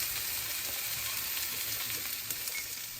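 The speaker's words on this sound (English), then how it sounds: "I'm searing them on medium-high heat for 6 minutes on each side" Chicken sears in a cast iron skillet over medium-high heat, giving a steady, close, dense sizzle with faint pops and no voices.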